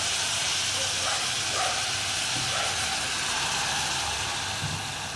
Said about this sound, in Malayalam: ഇനി നമുക്കിതിലേക്ക് ഒരു 1/2 കപ്പ് ചൂടുവെള്ളം ചേർത്തിട്ട് ഒന്ന് അടച്ചു വയ്ക്കാം.